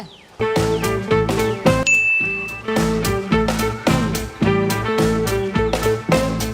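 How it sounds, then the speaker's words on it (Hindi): A phone message notification ding sounds over a loud, rhythmic backdrop of repeated bright chiming tones, with a brief higher alert tone standing out near the start. "किसको मैसेज आया हो?"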